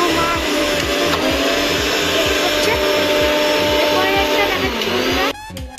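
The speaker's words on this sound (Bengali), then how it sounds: "সেটা মিক্সিতে আমাদের বাটতে হবে। আমরা বেটে নিচ্ছি।" A mixer grinder grinding boiled chana dal, running loud and steady with a pulsing rhythmic whine, then cutting off abruptly near the end.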